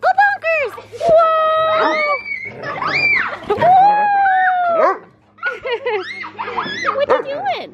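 An excited dog in a backyard barks, yips and howls in rapid, loud bursts of varied high-pitched cries and squeals, with a brief pause before more yelping.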